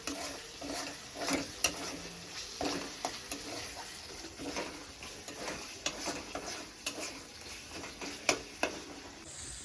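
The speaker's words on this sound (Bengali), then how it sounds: "দিয়ে দিচ্ছি এবার ভেজে রাখা আলুটা আলুটাকে ভালো করে একটু কষিয়ে নিই" Fried potatoes are stirred into spiced oil for a thin curry with large aar fish. A steady close sizzle runs throughout, broken by repeated scraping and clicking strokes from a spatula, with no voices.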